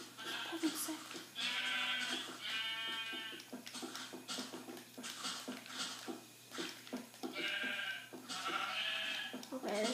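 Sheep bleating in the video game Minecraft, several drawn-out bleats repeating across the stretch, fairly close, mixed with game effects and background noise.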